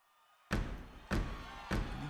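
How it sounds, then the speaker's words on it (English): Three heavy stomps of feet land roughly half a second apart during a church service, each a loud, sharp thud ringing briefly in the room after an initial quiet moment. "You guys stomp your feet like that?"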